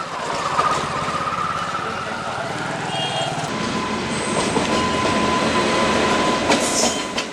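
A train rolls past near Shivpur railway station in Varanasi, a loud continuous rumble with clattering wheels and squealing metal, close by throughout.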